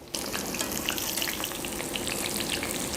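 Salmon fries in hot vegetable oil, giving a steady, dense sizzle with fine crackling spatters that runs without a break from start to finish, close and fairly loud with no voices.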